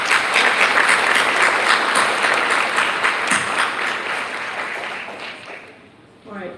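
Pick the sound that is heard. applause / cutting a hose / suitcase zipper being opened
applause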